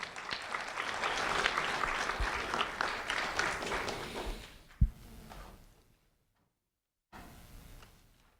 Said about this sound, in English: a round of applause for Elijah Esparza, please